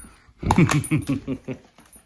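A small pet puppy whimpers and yips in a short run of soft, rapid, breathy cries close by, fading at the end.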